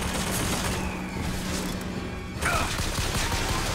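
Gunfire in Bioshock Infinite: continuous loud automatic shooting with mechanical clatter and a crash, dipping briefly before another heavy burst.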